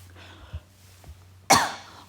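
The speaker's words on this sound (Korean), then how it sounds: "좀 목이 간지러워서 기침을 좀 했습니다" A person gives a single sharp, loud cough at close range after a couple of faint throat clearings, in a quiet room during a Korean literature lesson.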